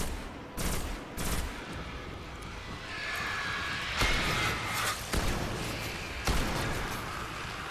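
Shotgun blasts in the sci-fi shooter Destiny, several loud separate booms spaced a second or so apart, over rumbling game ambience and a passing whine.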